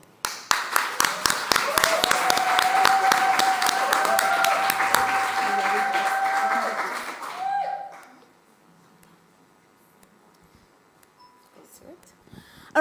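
Applause at a gender-just climate solutions awards ceremony: an audience claps in sharp, sustained bursts under a sustained tone for several seconds, then cuts off into near silence, with faint speech following.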